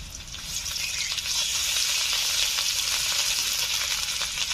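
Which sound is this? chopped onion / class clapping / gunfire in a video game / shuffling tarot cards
chopped onion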